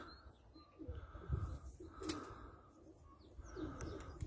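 Pigeons cooing outdoors on a sunny day, soft repeated coos with a few chirps and light rustling, fairly faint against a quiet background.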